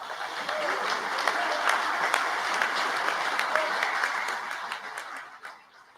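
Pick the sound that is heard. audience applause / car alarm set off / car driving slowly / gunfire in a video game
audience applause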